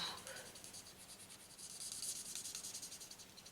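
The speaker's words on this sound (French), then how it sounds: "je colorie tous mes panneaux et puis bien sûr mon poteau" Alcohol marker nibs rubbing across a stamped paper image while coloring it in, a faint, soft scratching with quick rhythmic strokes growing steadier toward the end.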